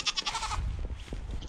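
Goats on a snowy winter homestead bleat repeatedly, a cluster of nasal cries up close with low rumbling handling noise and shuffling between calls.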